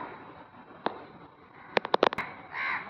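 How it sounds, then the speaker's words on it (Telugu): A few crows caw nearby, one short call followed by a quick burst of several harsh caws, over faint background noise. "నా కోసం కావు కావమని అరిసి పిలుస్తూ ఉంటారు"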